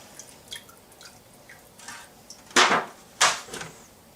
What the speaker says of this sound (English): just dump your drippings through.